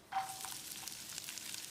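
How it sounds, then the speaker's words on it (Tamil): Chopped onions sautéing in a tablespoon of oil in a pan, a steady close sizzle that starts abruptly and continues evenly, with faint scraping of stirring, no talk. "வெங்காயத்தை கண்ணாடி பதத்துக்கு வதக்கிடலாம்"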